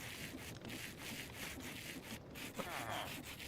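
Rhythmic rasping strokes of sandpaper polishing items in the Minecraft Create mod, a steady series of scratchy rubs repeating about every half second, fairly quiet and continuous with no talk.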